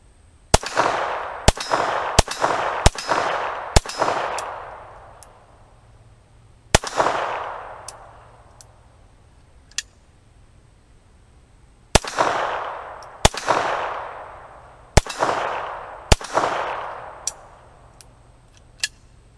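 Handgun shots fired downrange at an outdoor range, about a dozen loud sharp cracks in uneven clusters, each with a ringing tail and faint metallic pings from steel targets.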